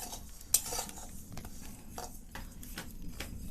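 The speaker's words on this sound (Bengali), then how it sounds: "এবার কড়াইয়ের মধ্যে সাদা তিলগুলো দিয়ে দেব। তিলের নাড়ু করার জন্য প্রথমে আগে তিলগুলোকে ভালো করে ভেজে নিতে হবে।" White sesame seeds dry-roast on low heat in a wok. A spatula scrapes and rattles through them in repeated strokes, with a sharp metallic clank near the start and a faint crackle underneath.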